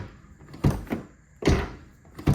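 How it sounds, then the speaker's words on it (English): The driver's door of a Lexus GX470 is shut repeatedly, each close a dull thunk followed by a brief rattle, three or four nearby impacts spaced under a second apart. "every time I shut the door, there's a rattle"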